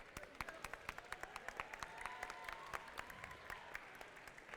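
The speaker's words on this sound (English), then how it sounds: "let's give a round of applause to all the teams that are going to be competing here today." A crowd at an Overtime Sunday 2024 robotics playoff event applauds the competing teams, with sharp individual claps standing out over a softer, steady wash of clapping in a large, echoing venue.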